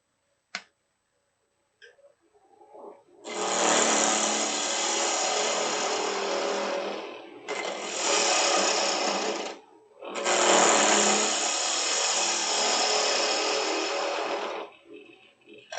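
A woodturning lathe tool flattens the top of a wooden three-corner box, producing loud, sustained scraping cuts in three long passes separated by brief pauses, after an initial click.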